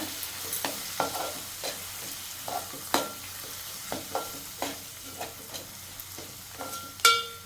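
Agri masala and turmeric get stirred into a pan with a soft background sizzle, punctuated by repeated light spoon scrapes and taps against the metal at an irregular pace.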